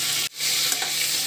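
Cumin seeds sizzle in hot oil in a kadhai, a loud continuous crackling hiss that cuts out for an instant and then returns, with no talking.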